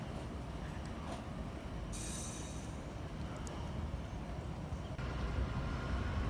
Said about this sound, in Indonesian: Lokomotif khusus berwarna merah merupakan penarik rangkaian gerbong kereta api yang melintas di jalur hulu di Pekalongan